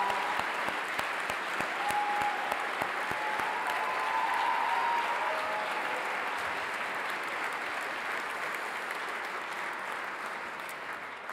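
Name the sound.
audience round of applause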